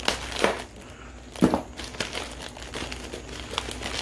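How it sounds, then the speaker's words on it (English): A double plastic shipping bag holding live fish is crinkled and cut open, giving close crackling rustles with two sharper bursts near the start and softer handling noise continuing throughout. "I don't think I can get this bag off without cutting it."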